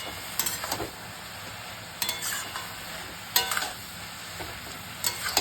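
Mushrooms and mixed vegetables stir-frying in a pan, a soft background sizzle broken by several sharp bursts of spatula stirring and tossing at uneven intervals, close and with no voices.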